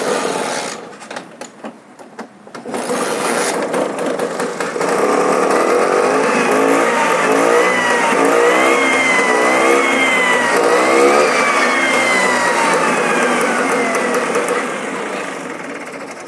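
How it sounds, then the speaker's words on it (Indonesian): A classic Vespa scooter engine, just fitted with a new spark plug, starts after a few irregular attempts. It then settles into a steady, loud buzzing idle that runs close by and alone for most of the clip. "sekarang kita coba nyalain mesinnya."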